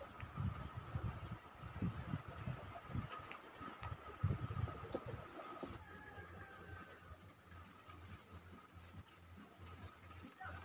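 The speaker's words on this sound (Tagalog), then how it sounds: "lumakas na yung ulan at saka hangin yan" Typhoon wind gusts roar with a wash of heavy rain, a rough, rumbling outdoor noise that stays steady throughout.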